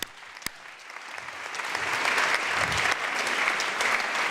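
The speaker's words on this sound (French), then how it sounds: "On peut les applaudir." Audience applause at a magazine award ceremony, a dense wash of clapping that begins thin after a sharp knock and swells to a steady, full ovation filling the room.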